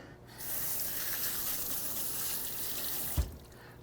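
Zucchini rinsed under a running kitchen tap, a steady broadband splash of water hitting the vegetable and sink for about three seconds, starting and stopping abruptly with a small knock near the end, no talking.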